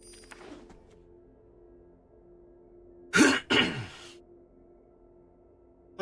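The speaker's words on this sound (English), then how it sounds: "I will clear my throat and will stay clear for more than like 5 seconds" Two sharp, close throat-clearing coughs in quick succession after a few quiet seconds, with faint low background hum.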